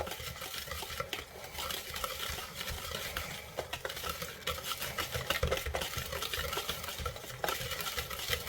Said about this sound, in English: I'm going to take my whisk, and I just want to combine all these dry ingredients